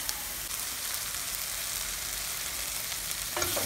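Chopped onion and tomato sautéing in a pan for a Kerala prawn curry, giving a steady, dense frying sizzle that stays close and even throughout, with a faint clink near the end.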